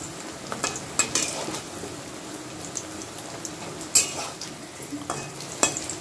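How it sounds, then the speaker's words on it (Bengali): Banana chops deep frying in hot oil give a steady, soft sizzle and bubbling, with occasional louder crackles and faint clinks of a utensil, fairly quiet and with no talking. "চারটে আমি দিয়ে আমি ডিপ ফ্রাই করে ভেজে আপনাদের দেখাচ্ছি"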